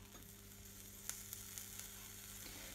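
Rice dries in a frying pan with a soft, steady sizzle, a few faint stirring clicks and a low mains hum underneath, quiet and close.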